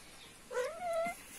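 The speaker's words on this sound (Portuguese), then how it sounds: "Esse gato." A house cat, injured and not fond of being held, gives a single short, faint meow that slides upward and then levels off. The meow is close but quiet and sits against a soft background hiss.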